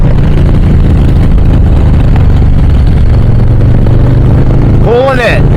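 A 2023 Harley-Davidson Low Rider S motorcycle pulling away, its low engine rumble loud and close throughout, with a rising rev sweep near the end and a rider's excited voice over the engine.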